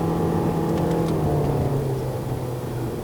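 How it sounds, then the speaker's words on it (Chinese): A Toyota Estima 2.4L XR50 MPV drives uphill on the Genting road in Malaysia, heard from inside the cabin. The engine gives a continuous, moderately loud drone with a steady low hum under a smooth, rising pull. "这个油门反应相当的好"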